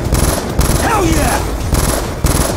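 A turret machine gun in Call of Duty Black Ops 2 fires loud, rapid bursts with brief gaps between them, and sustained chatter of gunfire in the middle.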